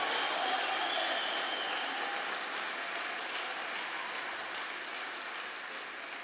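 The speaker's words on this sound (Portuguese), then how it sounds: "Pode aplaudir." Church congregation applauding during a sermon, a steady even wash of many hands clapping, moderately distant and gradually tapering, with no voices over it.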